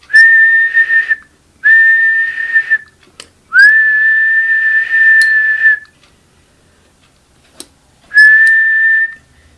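Sustained, loud steady-pitched whistling by a person, used to set off a whistle-triggered electronic switch tuned with a potentiometer, comes in four separate bursts of about one to two seconds with clicks between them and no talking.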